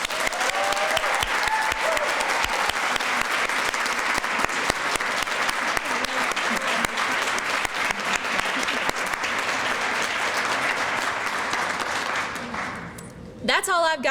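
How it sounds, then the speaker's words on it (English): Sustained audience applause fills a graduate student awards banquet hall, dense and steady for about thirteen seconds before tapering briefly, with a few faint voices mixed in and a short rise of cheering at the end. "so y'all please give her a round of applause"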